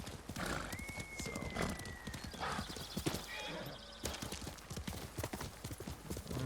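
A horse in Ghost of Tsushima clip-clops along in a brisk, steady rhythm, close and loud, with a whinny partway through and someone talking over the hoofbeats.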